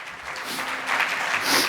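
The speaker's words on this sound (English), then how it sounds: "They need a round of applause for all the work that they've done." Crowd applause for a community football team at a Vaisakhi celebration event at Wembley, a brief burst of clapping that swells slightly toward the end, with no voices standing out.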